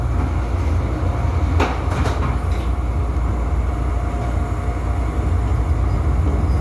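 A CTA Brown Line railcar rolls out of Merchandise Mart station on Chicago's elevated tracks, a steady low rumble of wheels and motors with a few brief metallic clanks and rattles.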